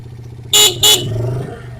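Two short, loud horn beeps in quick succession from a nearby motorcycle running without a battery, over a low idling hum.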